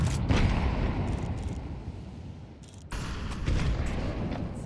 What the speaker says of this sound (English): Here comes the grenades